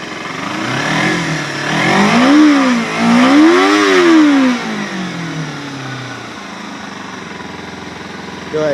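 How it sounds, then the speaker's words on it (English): A Kawasaki Ninja 250R motorcycle engine revs up twice in quick succession, the pitch climbing and falling with each throttle blip, then settles back to a steady idle. "I'll rev it up, see if you can hear it."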